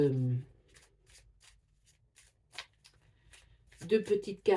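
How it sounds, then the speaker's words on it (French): Tarot cards are shuffled and drawn by hand, a run of soft papery flicks and slides between short bits of a woman's speech at the start and end. "Je vais tirer quand même deux petites cartes"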